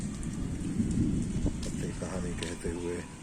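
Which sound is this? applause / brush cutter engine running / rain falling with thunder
rain falling with thunder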